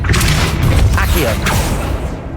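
A puzzle mechanism resets in the Hogwarts Legacy video game, a loud low rumbling grind with creaking mechanical movement filling the whole moment, a voice speaking briefly over it.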